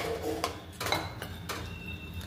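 Rice gets stirred into boiling masala in a pot, with a few distinct knocks and scrapes of a spoon against metal over a soft bubbling background.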